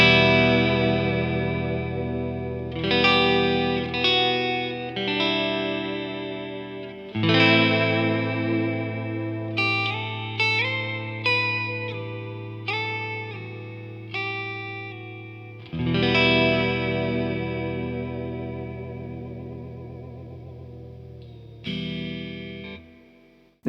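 Electric guitar chords and single notes from a Fender American Pro Classic Jaguar, with distortion off, ring out with a wet, wavering reverb and tremolo tail, strummed in phrases that swell and decay, with no voices.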